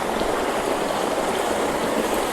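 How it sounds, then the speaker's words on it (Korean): A mountain stream with a small waterfall rushes along a wildflower-lined hiking trail on Panorama Ridge near Garibaldi Lake, Vancouver. The water makes a steady, close, even hiss with no talking. "또 다른 시냇물 폭포"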